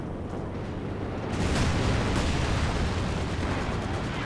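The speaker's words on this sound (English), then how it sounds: "Flame mortar on the capture circle." Flame mortar explosions in Company of Heroes 2 form a broad, continuous roar of fire and blasts that swells louder partway through and stays dense and heavy, with no voices over it.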